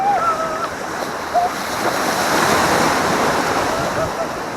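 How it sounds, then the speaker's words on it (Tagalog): Ocean surf at Tondaligan Beach, a steady broad rush of breaking waves with wind buffeting the microphone and faint voices calling now and then. "Ito lang alon!"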